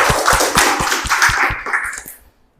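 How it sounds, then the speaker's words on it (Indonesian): A group claps together at a teacher training session, a short burst of roughly a dozen rhythmic hand claps that fades out within about two seconds. "tepuk tangan dulu dong."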